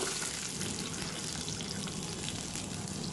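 Small onions fry in hot oil with cinnamon and cloves for a mutton kulambu, giving a steady, close, dense sizzle with no talk over it.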